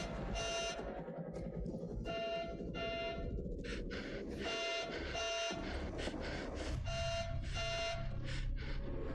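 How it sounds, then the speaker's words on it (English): An alarm in the video game The Devil in Me, set off when a vent is opened: a repeating electronic buzzer beeping in a steady rhythm of short bursts, loud and continuous over a low background hum. "I believe that alarm that triggered is when Mark opened the vent."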